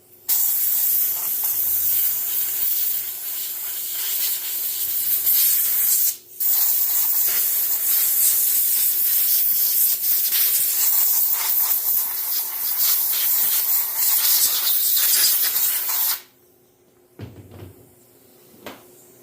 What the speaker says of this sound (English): And I usually blow off around the sprocket.